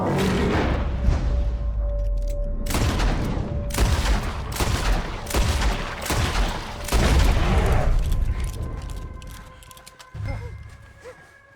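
Gunfire from the Red Dead Redemption 2 video game: a loud, close fusillade of repeated heavy shots and booming bursts over about ten seconds, ending with a few scattered reports.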